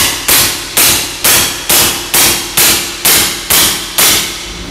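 Ten sharp shots from a semi-automatic big-game air rifle charged to about 2000-2500 PSI fire in a steady, evenly spaced series, each a loud crack with a short hissing tail, close and with no talking.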